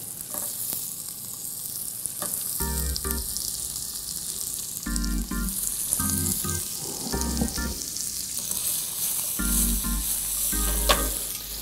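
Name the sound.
shrimp sizzling in a pan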